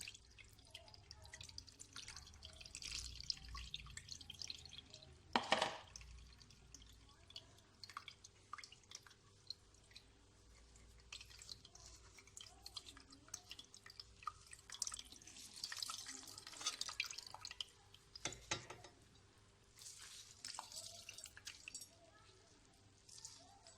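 Water drips and trickles from freshly squeezed chhena wrung in a cloth in a home kitchen while making rasgulla, a light, scattered patter with faint background noise and a couple of louder knocks.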